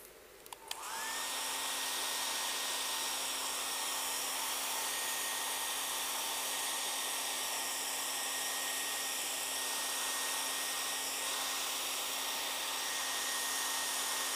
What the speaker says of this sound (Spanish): Entonces ahora lo voy a secar con el secador.